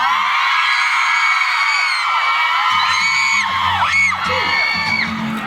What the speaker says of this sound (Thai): เสียงกรี๊ดดังๆกันนิดนึง